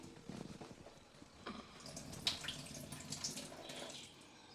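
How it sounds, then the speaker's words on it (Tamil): Rice is swished and rubbed by hand in a bowl of water while making idli and dosa batter. Soft, faint sloshing and trickling come in irregular bursts with small splashes, heard close up and alone. "அரிசியில் தண்ணியை பிடிச்சி கையால் களைஞ்சிங்க"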